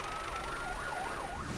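An emergency vehicle siren wails in a steady rising and falling sweep at moderate distance, heard alone, as police and ambulances respond to a scene where two men were crushed under a construction vehicle.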